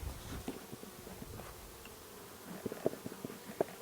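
Honey bees from a 5-frame nuc, just smoked before transfer to an 8-frame Langstroth hive, hum faintly in a low steady drone with a few soft knocks and bumps close by.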